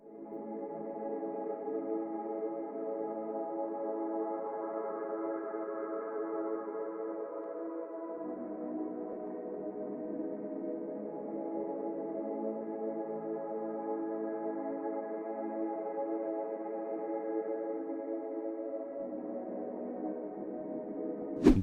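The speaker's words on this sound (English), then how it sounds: "It's a pad from Omnisphere called Wide Horizon." Wide Horizon, a soft synth pad from Omnisphere, swells in as warm sustained chords that shift harmony twice, steady and moderately quiet with no other sounds or voices.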